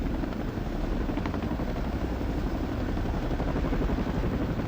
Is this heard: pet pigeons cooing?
no